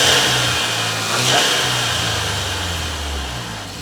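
A VW Scirocco with a fitted induction kit revs loudly and close by, the engine note rising and falling through several throttle blips over a steady idle, with no talking.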